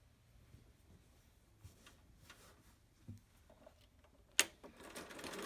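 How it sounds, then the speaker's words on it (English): A sewing machine back-stitches the seam of a fabric face mask in short, faint runs of quick mechanical ticking, with brief pauses and a louder snap near the end. "Back stitch at the beginning and at the end of your seam"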